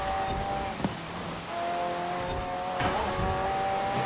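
A McLaren P1 in the video game Forza Horizon 4 drives fast with a continuous engine roar, shifting pitch as it revs and changes gear, and occasional tire noise.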